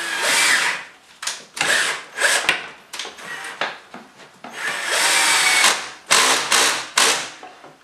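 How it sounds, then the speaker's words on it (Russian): A power drill bores holes into wooden desk panels during assembly, loud whining bursts that start and stop several times with short pauses, close by and without talk. "Делаем сразу одно отверстие, чтобы нам дальше не держать руками, сверляя последующее отверстие"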